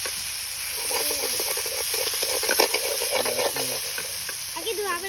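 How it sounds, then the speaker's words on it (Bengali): Potatoes and beans sizzle in a small wok as a utensil stirs them, a steady loud frying hiss with scraping strokes throughout, nearby and almost alone. "দেখো আমাদের এখানে আলু বিনস ভাজা হচ্ছে"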